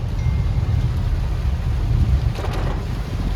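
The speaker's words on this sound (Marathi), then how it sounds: "जव्हार रोडला खूप मजबूत पाऊस पडतोय" Heavy monsoon rain drums on a car driving along the Jawhar road on the way from Mumbai to Trimbakeshwar, a dense, steady low roar with wind buffeting throughout and no voices.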